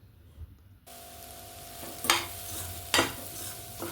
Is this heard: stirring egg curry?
yes